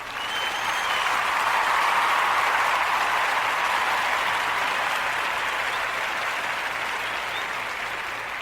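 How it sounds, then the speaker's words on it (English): An audience gives Ashley a round of applause at an award ceremony honoring her; the clapping is dense, full and steady, holding for the whole stretch without anyone talking over it. "All right, let's give Ashley a round of applause."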